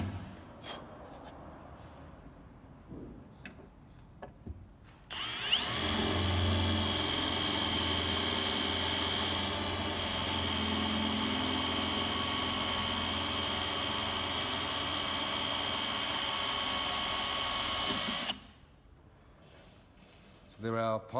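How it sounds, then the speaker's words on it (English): A power drill with a pilot bit whirs loudly and steadily for about thirteen seconds, boring pilot holes for roof rack bolts, with quieter handling and shuffling noises before and after. "I'll go ahead and actually drill that through with a pilot drill bit"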